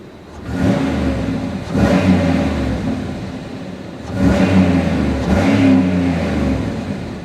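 A 2008 Pontiac Grand Prix GXP V8 engine revs up twice from idle against its roughly 4,000 RPM park limiter, roaring loudly and then settling back, with a deep rumbling exhaust throughout.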